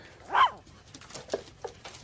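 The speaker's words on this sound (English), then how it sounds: "I thought you'd like the little dog." A small dog gives one short high yelp-like bark followed by a few faint whimpers, close but quiet against a soft background.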